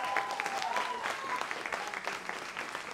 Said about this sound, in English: let's have a big round of applause for the tech team